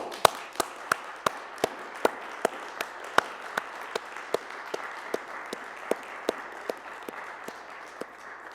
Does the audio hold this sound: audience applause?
yes